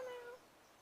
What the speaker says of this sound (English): Here comes our cat. Hey, you old pretty cat.